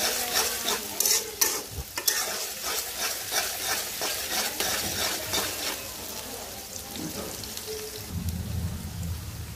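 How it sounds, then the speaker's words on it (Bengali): Onions frying in oil in a pan, stirred throughout: steady close sizzle with repeated scraping clatter of a spoon, a deeper burst of frying near the end, no voices. "পেঁয়াজটা ভালো করে ভাজবো"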